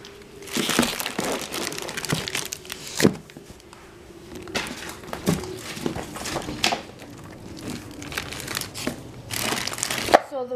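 Christmas wrapping paper is handled and crinkled up close, with irregular crackling rustles and sharper crunchy bursts scattered throughout.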